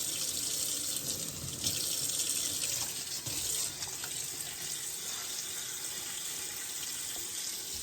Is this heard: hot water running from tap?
yes